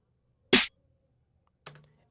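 Dry snare drum sample from a hip-hop beat, played without effects: one short, sharp crack, then a second quieter hit with a brief tonal ring, close and isolated.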